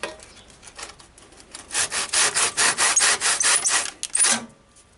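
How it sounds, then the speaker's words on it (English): A Quick Cut hand saw cuts through dry, rotten wood in a quick series of rasping back-and-forth strokes, close to the microphone, with no talk. "I'll get the saw out and nip that off to start with"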